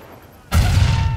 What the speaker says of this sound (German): schmeißen jetzt mit Granaten oder was?